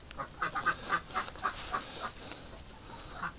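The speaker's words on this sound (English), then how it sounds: "I just can't believe how big this duck is" A large duck quacks in a run of repeated, fairly close calls, about nine or ten evenly spaced honking quacks with a brief pause before a last one.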